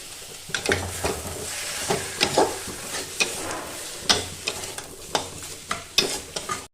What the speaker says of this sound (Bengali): সেই চিংড়ি মাছটা দিয়ে এটাকে ভালো করে নেড়ে নেব